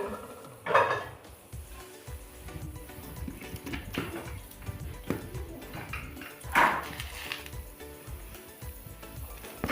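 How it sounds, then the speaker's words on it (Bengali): A pot lid is lifted off a pot of boiling water with two distinct metallic clanks, near and fairly quiet, over a low bubbling and kitchen clatter. "জলটা ফুটছে এবং ঢাকাটা খুলে দিচ্ছি।"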